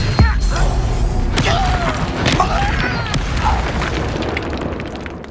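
Expelliarmus disarming spell cast in the Hogwarts Legacy video game during combat: a loud magical boom and burst near the start, followed by whooshing, creaking and popping effects that fade out.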